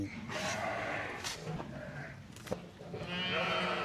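Purebred Sardi sheep bleat on a Moroccan farm, several loud, close calls overlapping with the murmur of the flock and faint background voices.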